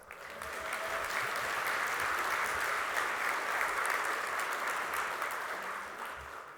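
Audience applause at a conference keynote, a steady sustained wash of clapping from a large crowd that swells and then tapers off, with no voices over it.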